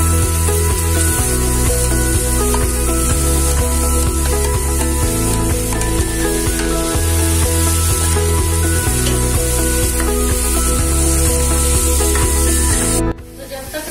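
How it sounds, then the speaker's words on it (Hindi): Chopped onion, tomato, green chili and garlic sizzle in hot desi ghee, a loud continuous close-up frying hiss with steady bubbling, running unbroken until a brief handling noise near the end. "तो जब तक तड़का उधर हमारा थोड़ा सा लाइट ब्राउन हो जाए"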